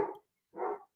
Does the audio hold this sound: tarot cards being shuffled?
no